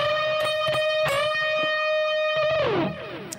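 Distorted electric guitar plays a unison bend phrase from a song's solo: sustained bent notes held loud and close, several picked attacks, then a pitch bend sliding down before the sound fades out alone.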